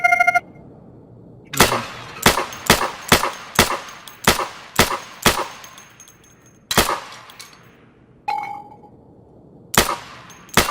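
Single gunshots hit firing-range targets in the video game Insurgency, sharp loud cracks in irregular bursts with short ringing metallic clangs, followed by brief pauses between groups.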